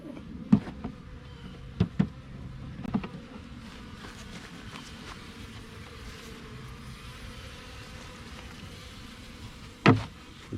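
Honeybees and drones in a package box give a low, steady hum, faint and close, broken by a few sharp knocks and thumps from handling the box.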